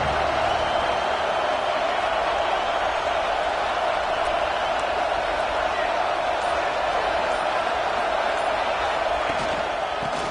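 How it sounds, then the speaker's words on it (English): A football stadium crowd at an LSU versus Oregon game keeps up a dense, loud, unbroken roar the whole time, with a voice faintly mixed in. "This crowd ready to make its presence known."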